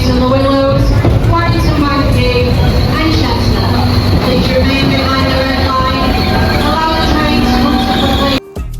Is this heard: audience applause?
no